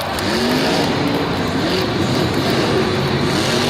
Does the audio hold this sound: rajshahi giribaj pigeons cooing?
no